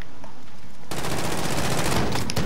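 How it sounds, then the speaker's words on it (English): Shotgun fire in a Call of Duty Gulag match, a dense, loud barrage of rapid booming blasts that erupts after a quiet moment and continues without pause. "Tommy, your shotguns don't match mine."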